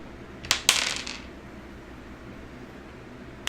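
Hard dice clatter briefly as they are handled and put away, two close rattling clicks followed by near quiet and one faint final tap.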